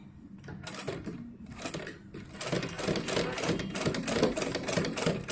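A sewing machine runs close by, stitching a small doll dress with a rapid mechanical rattle. It starts in short bursts, then settles into a continuous run.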